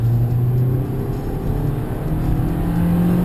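A 2011 Hyundai Elantra engine pulls steadily from 40 to 80 km/h, a continuous droning hum with a faintly rising pitch heard from inside the cabin, with no voices.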